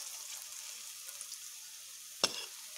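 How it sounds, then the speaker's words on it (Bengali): Jute leaf fritters sizzle and crackle softly in oil in a pan, a gentle continuous frying hiss with one brief louder clink near the end. "আমি এগুলোকে বেশ একটু লাল লাল করেই ভেজে নেব।"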